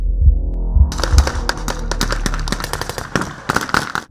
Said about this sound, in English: gunfire signals the start of a joint military operation